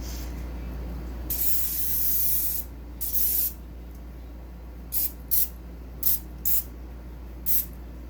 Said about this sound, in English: I'm really bad at spraying things down.